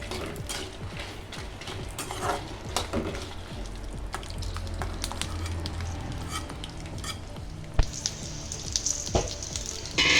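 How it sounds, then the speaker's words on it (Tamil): Garlic and dried red chillies sauté in sesame oil in a pan for kara chutney, giving a steady, close sizzle. Scraping and clinking from stirring run through it, with no talking. "போட்டு நல்லா வதக்கி எடுத்துக்கலாம்."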